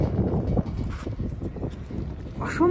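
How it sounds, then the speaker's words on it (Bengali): Strong, gusty wind buffets the microphone at a high, snow-covered altitude beside a parked car, a loud rumbling roar that surges and eases. "অসম্ভব হাওয়া দিচ্ছে"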